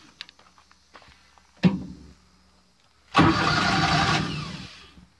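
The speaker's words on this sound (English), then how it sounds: "Nothing like a V-twin Kohler" A Walker mower's V-twin Kohler engine turns over with a sharp burst, catches and roars into a loud, steady run close by, then eases slightly near the end. A few faint clicks come before the start.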